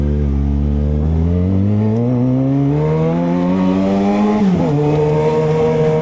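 A Yamaha XJ6 motorcycle with a sport exhaust revs up, its deep engine tone climbing steadily and loudly up close, then dipping briefly before settling into a steady higher pitch.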